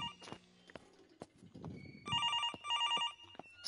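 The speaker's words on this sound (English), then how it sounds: "Somebody answer that fucking phone." A telephone rings in the horror game Infliction, two bursts of shrill electronic trilling that stand out clearly after scattered footsteps and faint knocks.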